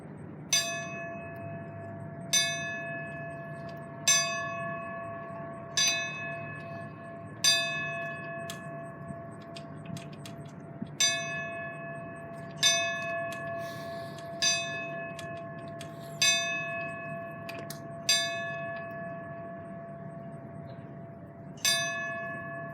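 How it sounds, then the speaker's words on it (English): A memorial bell is struck in a slow 5-5-5 pattern at an A&M instructor memorial ceremony, each clear ringing strike decaying before the next, heard alone in a quiet outdoor setting. "Today, we signal 555 as a final bell call for those instructors who have served us."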